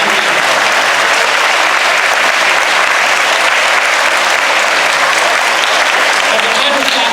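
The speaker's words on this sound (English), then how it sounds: "you should clap for that because that's a really good deal" A large school board audience in Tennessee applauds loudly and steadily, a dense, sustained wash of clapping filling the room without pause.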